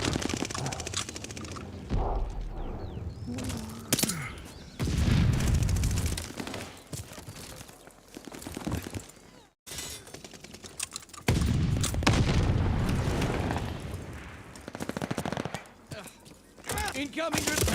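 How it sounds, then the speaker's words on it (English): Gunfire bursts and heavy booming grenade explosions from a multiplayer shooter video game, loud and repeated across the stretch, with voice chat talking over the action and keyboard clatter underneath. "Incoming grenade."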